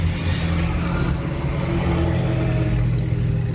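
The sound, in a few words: car driving along a road in Tamarindo, Costa Rica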